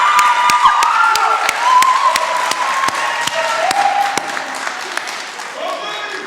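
Audience applause and cheering for faculty and staff at a college spring honors night, a dense steady wash of clapping with scattered whoops and crowd voices throughout.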